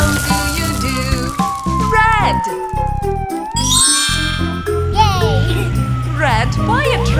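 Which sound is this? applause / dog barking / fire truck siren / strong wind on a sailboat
fire truck siren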